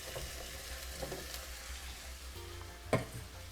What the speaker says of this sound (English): I'm also going to go ahead and add my potatoes into this pot